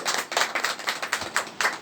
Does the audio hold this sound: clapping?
yes